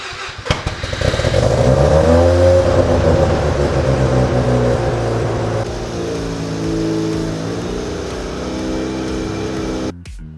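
A Mazda RX-7 FC3S rotary engine that had sat in a barn for 14 years runs close and loud, rising into a rev and holding a buzzy idle for about ten seconds.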